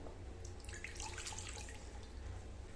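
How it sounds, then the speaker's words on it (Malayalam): Half a cup of lukewarm water pours into a bowl for a yeast mixture, a soft, continuous close trickle and splash lasting a few seconds. "ഇളം ചൂടുവെള്ളം നമുക്കൊരു 1/2 കപ്പ് പാർന്നു കൊടുക്കാം."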